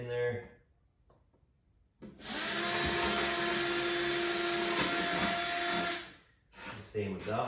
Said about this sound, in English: What I'll do is just drill a hole to get those two started.